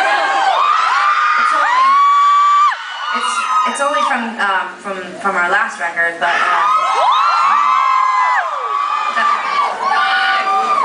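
A concert audience screams and cheers at a show at The Glasshouse, with loud shrieks and whoops that dip briefly while a singer talks over them, then swell back to full volume.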